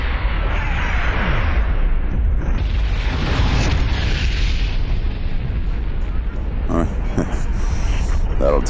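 The Justice Ray weapon fires in a sci-fi space audio drama and sets off a loud, rumbling explosion that roars continuously with crackling bursts, close and overwhelming, with no speech over it.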